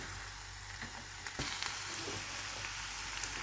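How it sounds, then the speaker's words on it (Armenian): Steady frying sizzle of spinach greens in a pan, a continuous crackling hiss with occasional louder pops, close and fairly quiet, with no voices. "Արդեն իմ կանաչիները տապակվել են"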